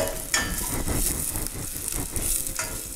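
Curry leaves crackle and sizzle in hot oil in a pan as they are stirred, a dense steady hiss with scraping stir noises throughout, close and fairly loud, with no talking.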